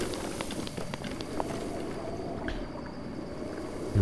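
A small stream of water in The Legend of Zelda: Breath of the Wild runs with a steady, gentle trickling and rushing wash, moderately close, with a few faint clicks and no talk.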